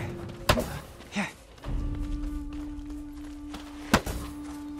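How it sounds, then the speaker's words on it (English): Sword strikes and blocks in the video game Ghost of Tsushima, a training bout: two sharp wooden-sounding clacks a few seconds apart, with dull thuds and movement between them over steady background ambience. "Break my block with a heavy attack,"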